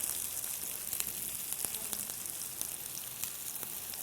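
Onions and salt sizzle steadily in a hot pan, a dense crackling fry with scattered pops and the occasional stir, continuous and fairly close with no talking.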